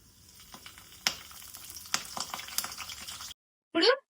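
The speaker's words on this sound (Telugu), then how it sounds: "మన తాలింపు చిటపటలాడేంత వరకు ఉంచేసుకొని కరివేపాకు వేసేసుకుందాం" Mustard seeds and cumin tempering in hot oil give a steady close sizzle scattered with sharp crackling pops, then break off into silence before one short loud burst near the end.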